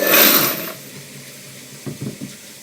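Water pours into a Frankford Arsenal wet tumbler drum used for cleaning brass, a short loud gush that fades within a second, followed by a few faint knocks and clunks.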